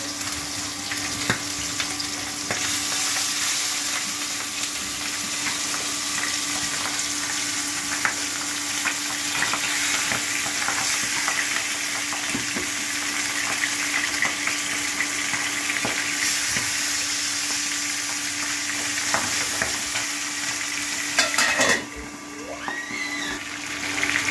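Pabda fish fries in hot oil in a pan, giving a loud, continuous close-up sizzle and crackle with a faint steady hum underneath and a brief clatter near the end.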